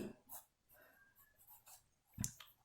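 Chalk or marker strokes on a board during a Sanskrit lesson, a few short scratchy bursts with a louder tap near the end, close and without talking.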